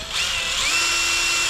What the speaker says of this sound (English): I'm going to take my drill just to make it quicker,